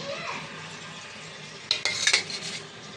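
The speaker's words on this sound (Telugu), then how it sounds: "బాండీ పెట్టి దీంట్లో ఒక 2 స్పూన్లు ఆయిల్, 2 స్పూన్లు నెయ్యి వేసానండి" A kitchen pan is set on the stove and oil and ghee are added for cooking, a soft metallic clatter and brief sizzling clinks near the end over a faint background hiss.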